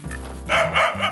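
Short sharp dog barks break out beside a Vietnamese pig, two or three close, loud yaps in quick succession.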